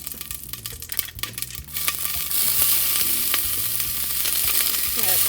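Chopped onion hisses and sizzles loudly in hot extra virgin olive oil in a pan, with a steady dense crackle that swells after the onion lands and stirring scrapes underneath.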